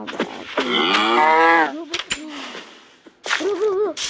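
A cow on a farm where a calf has just been born moos loudly and close by, a long drawn-out call followed by a shorter one after a pause, with handling noises and a person's voice faintly in between.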